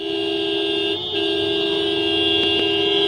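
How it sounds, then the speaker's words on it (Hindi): Vehicle horns sounding together at a farmers' chakka jam road blockade protest, a steady sustained blare that holds for the whole stretch with a brief dip and two sharp extra toots near the end. "इस तरीके से लगातार गाड़ियों पे हॉर्न बजा के एक तरह से अंतिम संदेश दिया जा रहा है"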